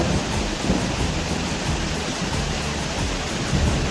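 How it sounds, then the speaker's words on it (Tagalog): Heavy rain pouring steadily in foggy weather, a dense loud roar of rainfall with low rumbling thunder underneath, continuous with no voices. "Too much rain."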